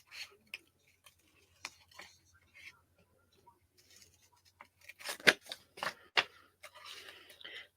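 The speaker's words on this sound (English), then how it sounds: "These are not the fussy cutting scissors, but that's okay." Scissors snipping paper for scrapbooking, with sparse, crisp cuts at first and then a quicker cluster of snips alongside faint speech and a low steady hum.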